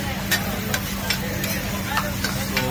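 Mutton fry being stirred and mixed on a hot griddle at a Mumbai street food stall, with repeated short scraping clinks over a steady sizzle and background hum.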